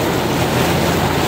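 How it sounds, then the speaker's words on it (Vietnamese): Water waves lapping against a river boat on the Ninh Kieu to Cai Rang floating market run in Can Tho, a steady close wash of splashing water with wind buffeting the microphone throughout, no voices. "sóng nước đi"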